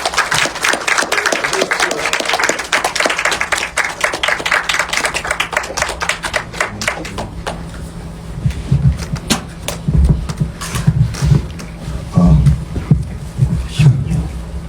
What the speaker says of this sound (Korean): 큰 박수로 두 분 모시겠습니다